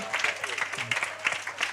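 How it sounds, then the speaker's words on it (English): A workshop audience claps for speaker Selby Gumede in a brief, steady patter of applause while a voice talks over it. "A big hearty round of applause."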